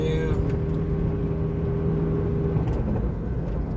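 A 2002 PT Cruiser runs down the road with a steady engine drone and road noise, its gear changes blending into the continuous hum over nearly four seconds.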